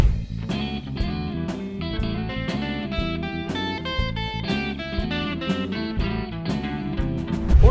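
An electric guitar with distortion runs through scales, a steady stream of separate picked notes moving up and down at an even, moderately quick pace, played alone.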